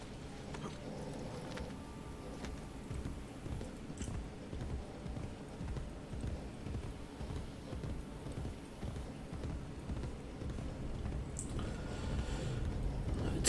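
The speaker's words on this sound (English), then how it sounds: "But I do know I have a trusty horse." Horse hooves galloping in the Assassin's Creed Brotherhood video game, a steady rapid clip-clop rhythm running throughout at moderate level, building slightly louder toward the end, with no talking.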